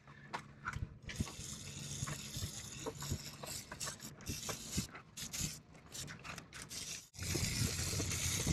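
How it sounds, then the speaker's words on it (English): Aerosol lubricant sprayed onto a boat's anchor chain, heard as a steady, close hiss with scraping and clinking of chain links, cutting out briefly before a louder burst of spray. "So I'll be spraying that all over this chain part."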